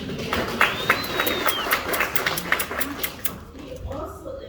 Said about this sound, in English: yes, it's okay to clap